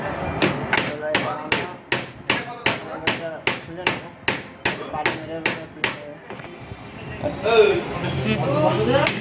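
Metal hammer blows struck on the shock absorber of a tuk-tuk (auto-rickshaw) during repair, about fourteen sharp, evenly spaced strikes close by, then scraping and clattering workshop noise under a murmur of background voices.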